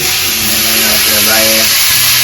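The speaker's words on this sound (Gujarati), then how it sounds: "રાઈ જીરુંનો વઘાર કરી નાખ્યો છે" Mustard seeds and cumin sizzle in hot oil for a tempering, a steady bright crackle with some voice in the background.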